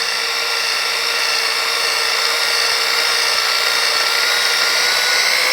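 Power polisher buffing the bed of a 1950 Chevy truck, a continuous bright high-pitched motor whine with a hissy buffing wash, steady and close throughout, with no talking.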